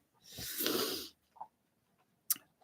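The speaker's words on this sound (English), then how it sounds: "I cannot stop yawning." A person yawns once, a long breathy exhale lasting about a second, followed by a couple of faint breaths and a short sharp sniff, close and with no talking.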